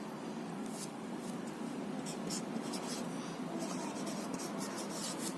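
A pen or pencil writing numbers by hand scratches steadily across paper in short bursts of strokes, close and quiet, with no talking over it.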